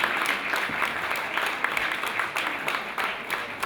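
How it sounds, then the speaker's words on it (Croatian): A crowd at a hairstyle show during the flower festival in Split applauds to welcome guests onto the stage, steady close clapping throughout with a few scattered voices. "Ajmo ih pljeskom pozvati i podržati da nam se popinje ovdje na pozornicu."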